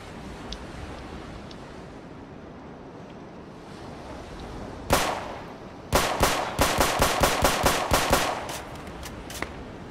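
A single loud shot followed by a fast run of about a dozen sharp gunshots from a gun in Roblox Warship RP, over a steady background of wind and sea.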